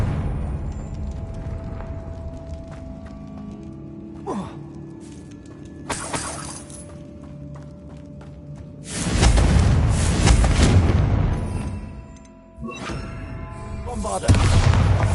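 In Hogwarts Legacy, a Confringo fire spell fires inside a tomb-like chamber and bursts into loud, crackling explosions, with two heavy blasts well apart, each followed by a rumbling tail.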